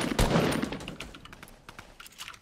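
Gunfire rattles in a Fortnite match, a dense burst of rapid shots followed by scattered single cracks, moderately loud and close, with no talk.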